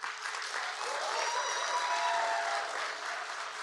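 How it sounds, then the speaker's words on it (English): Audience applause at a physician-career talk, a dense steady wash of many hands clapping together, sustained and fairly loud throughout with a faint whistle-like tone riding over it. "take a few seconds and applaud yourself for all that you've done to make it to this point today"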